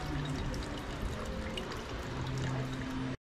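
Wine pours from a bottle into a glass at a winery, a steady liquid trickle and splash lasting about three seconds, close and moderately quiet, then cutting off abruptly.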